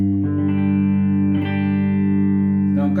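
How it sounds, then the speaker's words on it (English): An electric guitar on its bridge pickup plays through a Fender Blues Junior 15 valve amp, sustained notes ringing with rich harmonics, with a fresh attack around the middle and another near the end, loud and close. "go through some tones on this guitar"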